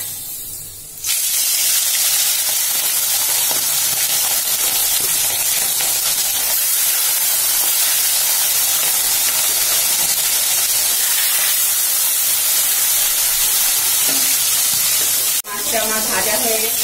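Fish frying in hot oil in a wok gives a loud, steady sizzling hiss that starts abruptly and carries on almost unbroken for about fourteen seconds before cutting off, with a short clatter near the end.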